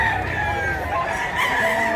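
A rooster crows, a sustained strained call over a busy outdoor background of other fowl at a rooster sale, with continuous noise throughout.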